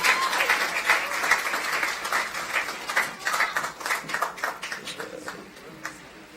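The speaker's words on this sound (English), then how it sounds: "Another round of applause for Ms. James" An audience at the National Youth Awards applauds a volunteer award winner, Ms. Sylvina James. The clapping is strong at first and thins into scattered, individual claps as it gradually fades.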